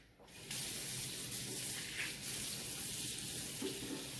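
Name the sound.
cold tap water rinsing blue crabs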